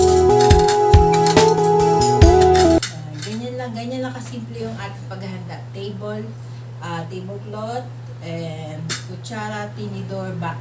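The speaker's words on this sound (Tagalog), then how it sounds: "ngayon, maghahanda na tayo ng ating pinggan" Plates, forks and glasses clink and clatter close by, first under music, then over a steady hum with a person speaking.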